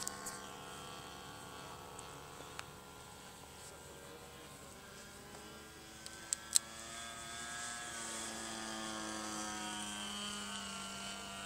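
A Lancair radio-controlled 3D model plane flies overhead, its engine a faint, distant drone whose pitch rises and falls as it manoeuvres.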